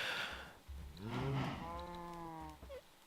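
Cow mooing in the Minecraft video game, a single long, clear, drawn-out moo rising and falling in pitch, close and alone without talk.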